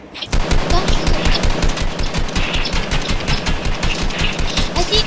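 Rapid automatic gunfire blasts continuously at a helicopter in a shooting video game, a loud, steady stream of dense shots that starts abruptly and carries on for several seconds.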